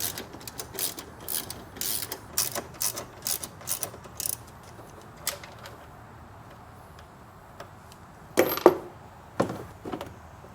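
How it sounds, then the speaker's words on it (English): A 10mm socket and ratchet wrench loosen car headlight bolts in quick runs of sharp, close metallic clicks. A steady burst of ratcheting is followed by a pause, then a few louder isolated clicks. "with our 10mm socket and wrench, let's remove these two bolts."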